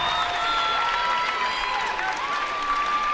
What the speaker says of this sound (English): Howe claps, and everybody comes full throat again.